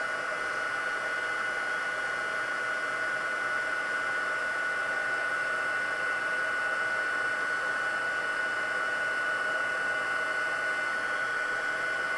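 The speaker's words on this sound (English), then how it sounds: "Once you get your heat tool heated up, guys, though, it's not that bad." A heat embossing tool blowing hot air over a Stampin' Up! card, a steady loud whooshing hiss with a faint high whine that runs unbroken throughout, close and with no talk.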